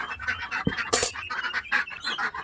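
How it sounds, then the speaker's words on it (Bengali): Domestic ducks honk and quack in a lively, overlapping clamour as they are let out of their shed to be fed, close by and continuous, with one sharper burst partway through. "এই যে হাঁসের জন্য খাবার নিয়ে আসলাম এখন ওদেরকে বাইরে বের করে সবাইকে খেতে দেব"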